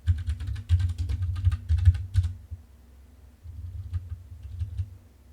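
Code is typed on a computer keyboard: a quick burst of close keystrokes, a short pause, then a few more scattered clicks over a steady low hum.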